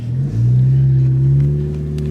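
A 10th-generation Honda Civic Si fitted with a Skunk2 Alpha Series downpipe and front pipe revs up close and loud, its engine note rising in pitch and holding as a single throaty surge.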